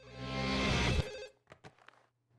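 A phone rings in the video game No More Heroes: one loud, swelling electronic ring lasting about a second, followed by a few faint clicks and a soft low hum.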